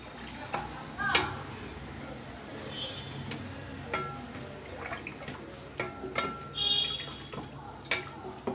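Homemade mozzarella cheese being stirred in a pot gives soft, intermittent scraping and clinking at a steady close distance, with light kitchen noise underneath.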